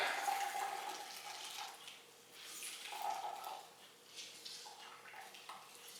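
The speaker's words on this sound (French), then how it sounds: "on va extraire notre lait de soya en pressant bien comme il faut" Homemade soy milk squeezed by hand out of a sealed bag, giving soft, close liquid sloshing and trickling in uneven surges, fading briefly and then returning, fairly quiet throughout.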